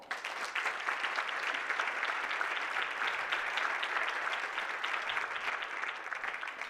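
An audience applauds steadily as four women panelists come up to join the host at a French science talk on women in science, an even, sustained patter of clapping heard from some distance at moderate volume.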